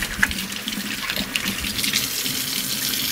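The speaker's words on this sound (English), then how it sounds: "I'm gonna check on my celery and onion as I rinse my hands off" Tap water runs steadily into a kitchen sink as hands are rinsed during chicken pot pie prep, a continuous close splashing hiss with no talking.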